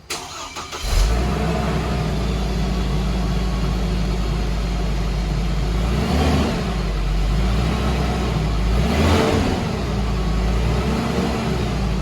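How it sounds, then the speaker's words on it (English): Hummer H3 engine cranks and catches, then settles into a steady, muffled idle through the stock exhaust, with a couple of light blips swelling the rumble mid-clip. "we're gonna do a little startup here, show you what the stock exhaust sounds like"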